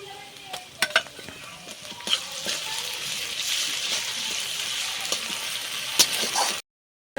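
Garlic paste sizzles with browned onions in hot oil, a broad frying hiss that swells in the middle, punctuated by stirring clicks and scrapes before stopping abruptly.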